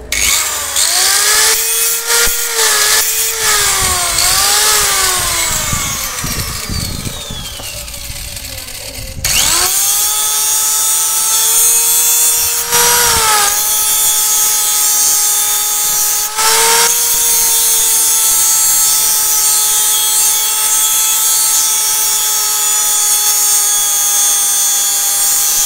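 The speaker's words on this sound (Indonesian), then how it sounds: "Oke, kita tipiskan saja pakai gerinda. Kita gosok." A handheld angle grinder thins a steel wrench for a Maktec drill, whining loudly with a rising and falling pitch as the disc bites and eases off, then settles into a long, steady high-pitched grind with short interruptions.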